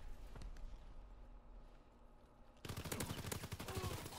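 A rapid burst of automatic gunfire erupts suddenly and loudly after a quiet stretch, fired at a UAV in a multiplayer shooter game.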